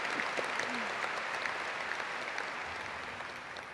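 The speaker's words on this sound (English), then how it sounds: "You can clap for that." A large graduation crowd at Keller High School applauds in a steady, dense wash of clapping that stays even and fairly distant throughout, with no voices standing out.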